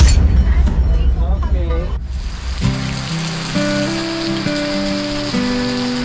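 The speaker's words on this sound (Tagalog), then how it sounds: "nagsimula na ang walang humpay na ulan" Heavy rain from Super Typhoon Uwan (Fung-Wong) in the Philippines hisses densely for about two seconds, then breaks off into calm music with sustained tones.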